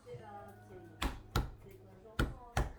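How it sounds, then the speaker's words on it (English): A heavy knife chops through crabs in four loud, sharp whacks, in two quick pairs, close by, after a stretch of quieter kitchen background. "It is easier if you have a heavier knife such as mine. That way you can cut through the crabs."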